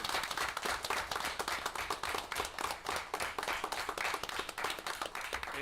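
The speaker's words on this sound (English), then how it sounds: "So let's give them a round of applause" A township committee work session crowd gives sustained applause to honor emergency responders, many hands clapping quickly and evenly in a dense, continuous wash with no talk over it.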